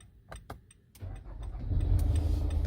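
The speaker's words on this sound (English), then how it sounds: "The car start." A 2016 Nissan Altima engine cranks and catches after a few faint clicks, then settles into a steady close idle that grows louder over the last second and a half.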